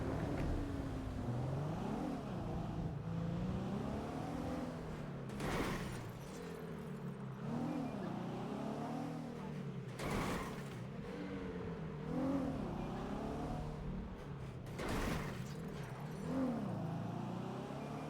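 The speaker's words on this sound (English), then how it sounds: "It's just motorbikes." Motorbikes rev and pass by outdoors at night, with repeated rising and falling engine whines and several louder swells as bikes go past at a moderate distance.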